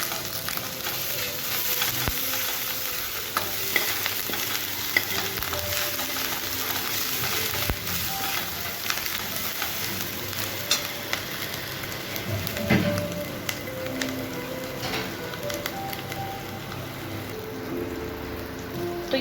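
Ginger and garlic frying in oil for dal makhani, making a steady, close crackling sizzle that holds evenly for the whole stretch with no talking.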